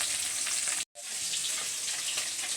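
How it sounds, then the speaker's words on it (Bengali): Fish frying in a pan gives a steady, close sizzle with dense crackle, broken once by a brief gap of silence before the frying resumes. "মাছ ভাজাটা হয়ে যাচ্ছে সেরকম"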